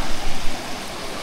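A river stream flows with a steady, broadband rushing wash, close and continuous, with no voices over it.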